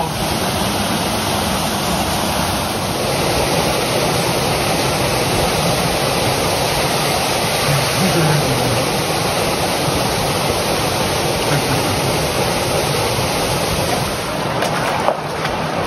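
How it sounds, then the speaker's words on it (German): A waterfall in a gorge near Petra rushes in a loud, steady roar of falling water that fills the scene without letup. "hinter dem Wasserfall."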